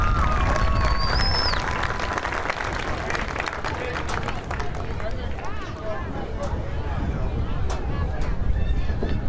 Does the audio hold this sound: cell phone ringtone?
no